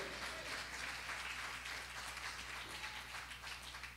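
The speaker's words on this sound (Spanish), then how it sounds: "Dale un aplauso al Señor con todo tu corazón." Church congregation applauding during a Spanish-language sermon, a steady wash of clapping that sounds fairly distant and soft, held at an even level throughout.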